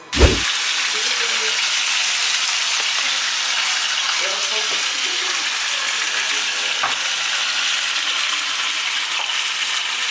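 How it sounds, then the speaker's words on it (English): Steady, loud sizzling crackle of food frying in a hot pan, continuous throughout with a brief clatter at the very start. "we just about to sizzle these things right quick"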